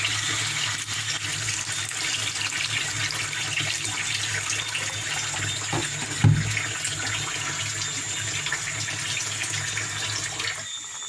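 Steady running water pours continuously into a cooking pot of red pea stew, with a brief splash midway, a constant close rushing sound with no talking.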